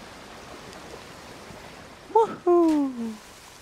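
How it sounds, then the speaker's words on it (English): A character splashes into icy water in Uncharted 3, with a couple of sharp, close splashes and a short, drawn-out vocal gasp over a quiet, steady watery hiss. "Something tells me that we should go for a dip."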